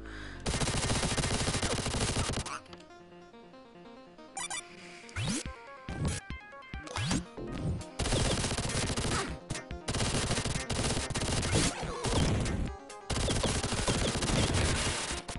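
Dense, loud video-game SMG fire in a Sonic VR game, sustained bursts that cut in and out with brief pauses and sharp single shots between them, carrying on for most of the stretch with no talking.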